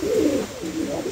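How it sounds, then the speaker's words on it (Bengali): An adult female opal-coloured pigeon coos, a close, soft, rolling coo lasting about a second with no other sounds. "একদম নতুন নিউ অ্যাডাল কবুতর, 9 খিলের কবুতর"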